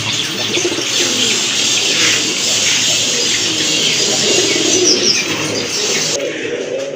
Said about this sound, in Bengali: আরেক জোড়া কবুতর, ড্যানিশ কবুতর